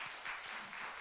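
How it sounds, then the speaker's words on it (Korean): A church congregation applauds during a Sunday worship service, a brief, soft, even patter of many hands clapping. "박수하겠습니다."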